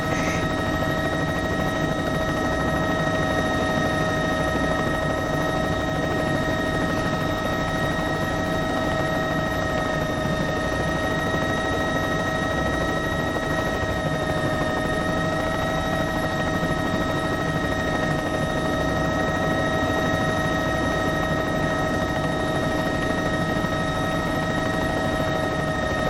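A Bell 206 helicopter in the X-Plane flight simulator settles in to land on a Pacific island, its steady rotor and turbine drone running continuously and evenly throughout with a constant tonal whine, no voices over it.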